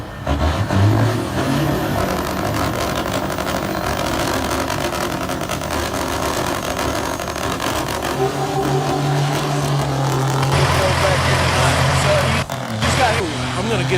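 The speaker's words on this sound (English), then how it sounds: "we're going to hear some trucks." Trucks of the People's Convoy rumble and rev nearby, with engine drone and a long steady horn-like tone partway through, continuous under background noise.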